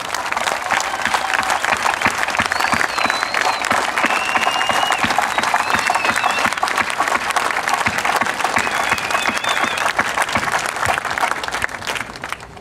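A crowd at a street drag racing event gives a long, warm round of applause, dense steady clapping with occasional faint whistles or voices, holding evenly before tapering off at the very end.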